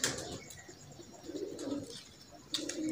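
Pigeons coo softly on a rooftop in low, rolling calls that repeat a few times at moderate distance over faint outdoor ambience.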